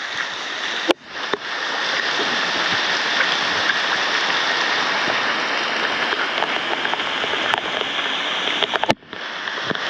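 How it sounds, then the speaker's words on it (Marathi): Heavy monsoon rain pours down in a village in a loud, dense, unbroken roar, close by, with a couple of brief knocks and rustles at the start and end. "हा पहिला मला दिवसाचा पाऊस भेटलाय की मी भिजतोय"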